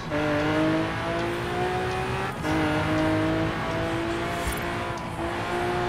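A Lamborghini Aventador drifts on ice in Forza Horizon 4, its engine holding a loud, steady high-revving note that climbs slowly, with tyre noise and a brief gear change midway and no talk.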